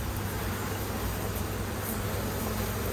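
Honey bees buzz steadily around an opened hive while a bee brush gently sweeps them off a frame, a dense, continuous drone close by with no voices over it.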